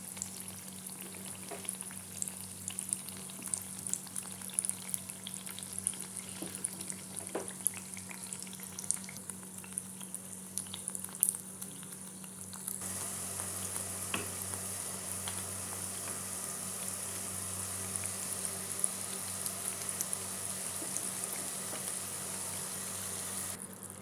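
Malpua pancakes fry steadily in hot oil, with a continuous soft sizzle and bubbling that runs unbroken and fairly quiet, with a few faint clicks from the pan.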